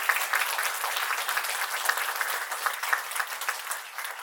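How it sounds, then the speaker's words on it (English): An audience at a family lecture claps for the lecture's speakers in a dense, even round of applause that holds steady throughout, then thins slightly near the end. "Let's just give them a round of applause again."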